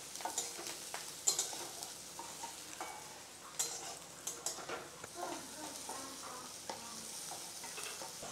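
Garlic, onion and dried chili fry in hot oil, giving a steady close sizzle with stirring clicks and scrapes scattered across it.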